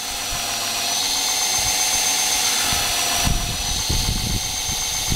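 A grinder polishes a blade with fine grit, giving a steady high motor whine with a sustained tone. Near the end come bursts of rougher contact noise as the blade presses against the wheel.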